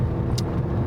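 A Ferrari Testarossa engine pulls hard from about 1,000 RPM, giving a steady, dense, low rumble heard from inside the car, with a brief hiss partway through.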